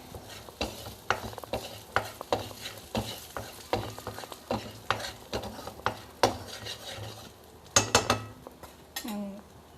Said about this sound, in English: So we'll just mix it for some time.